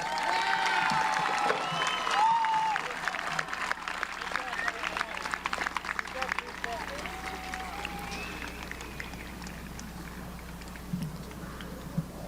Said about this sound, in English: How about a round of applause for our graduates?